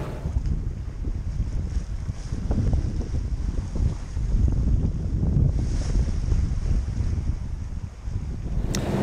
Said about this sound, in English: It's a sad sight when you're on a sailboat and you're motoring.